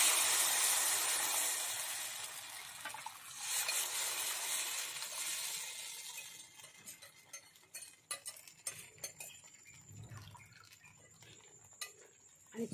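Ragi extract is stirred continuously in a kadhai greased with ghee over a low flame, giving faint, soft scraping and light ticking clicks against a quiet hiss that fades away.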